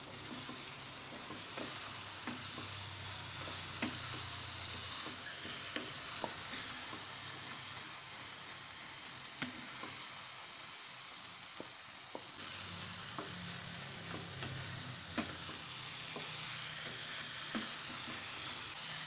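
Green chillies sizzle in oil in a pan of potato posto, a steady frying hiss running throughout with occasional soft stirring clicks and scrapes, close and fairly quiet, with no talking.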